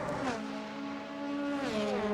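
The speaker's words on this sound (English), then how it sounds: "Drivers come down the straight once more, heading towards their braking zone as they battle it out here" Race cars roar down the straight at Road America during a race, their engine notes rising and falling as they pass one after another, fairly distant but clear and continuous.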